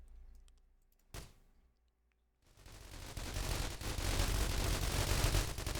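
Gunfire from the survival game The Walking Trade: a single sharp shot rings out, then after a pause a dense, continuous burst of rapid automatic fire builds and stays loud to the end, with no voices.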